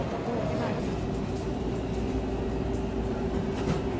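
Steady low rumble and broadband hum inside a Shinkansen bullet train in Japan, heard continuously throughout at moderate loudness with no clear voices standing out.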